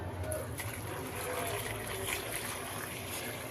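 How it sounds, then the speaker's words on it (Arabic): Boiling water pours steadily over trotters in a cooking pot, giving an even, continuous rushing splash for several seconds. "هنزل عليها بميه سخنه، ميه مغليه. وادي الميه بتاعتي اهي."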